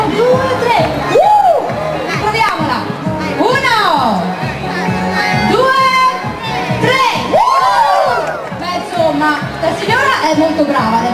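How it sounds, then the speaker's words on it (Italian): A large crowd of children and adults shouts loudly together after a count of three, with cheering, whoops and excited chatter rising and falling at close range. "deve essere accompagnato da un urlo forte"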